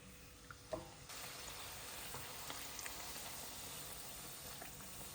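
A small piece of kachori dough dropped into hot oil, a light clink followed by a burst into steady, bubbling sizzle that carries on evenly and close, with no one talking.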